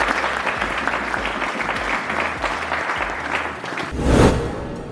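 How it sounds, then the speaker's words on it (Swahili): Students in a crowded school hall at a boys' school clap steadily and loudly for a motivational speaker, a dense, continuous wash of applause that swells near the end, with no speech over it. "Makofi mazuri."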